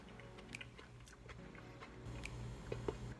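Close, soft chewing of a bite of freshly made guacamole, with moist crunches and smacks in a quiet room and no talking.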